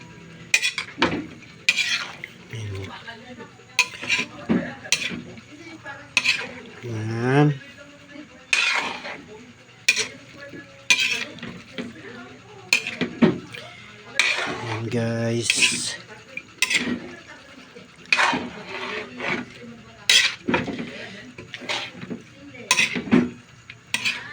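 Ingredients stirred in a cooking pot, with rhythmic scraping and clinking of a utensil against metal, some sizzling, close and fairly loud, with brief voices in between.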